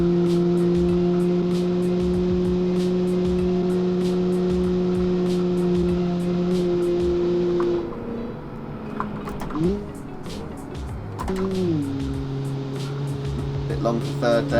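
A budget 1966 car engine in the Automation driving game holds a steady drone, then shifts pitch as gears change, with people talking over it throughout.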